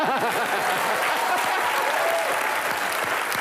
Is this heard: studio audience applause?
yes